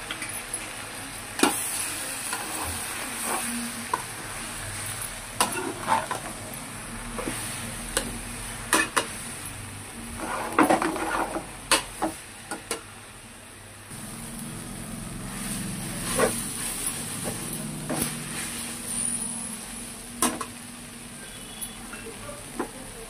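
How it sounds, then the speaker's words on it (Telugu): Gongura pickle fries in oil in a home kitchen pan, giving a steady low sizzle with scattered sharp ticks and scraping stir strokes throughout, close and fairly quiet. "మరి కొంచెం ఆయిల్ ఇంకా వేసుకుంటున్నాను ఇంకా ఫ్రై అవ్వడం కోసం."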